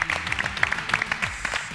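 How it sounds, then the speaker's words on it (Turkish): Studio audience applause sends off a contestant on a cooking competition show: a short burst of scattered, moderately faint hand claps with no talking over it. "Alkışlarla uğurluyoruz."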